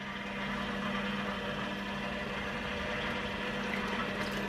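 Stand mixer with a dough hook kneading pizza dough on low speed, a steady, even motor hum that runs without a break.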